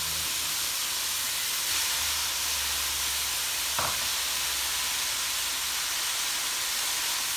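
Shredded cabbage and freshly added carrots sizzle in a hot pan, a loud, steady frying hiss throughout with one brief soft knock partway through.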